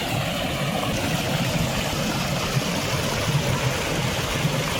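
Small waterfall spilling over a dam on a rural hillside, a steady broadband rush of falling water that holds constant and fairly loud throughout, with no voices.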